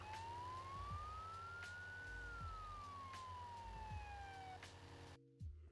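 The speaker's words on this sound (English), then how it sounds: "And of course it has its sirens as well." An ambulance in the zombie survival game Roblox Apocalypse Rising 2 sounds its siren, a single slow wailing tone rising and falling over engine hum and clunks before cutting off near the end.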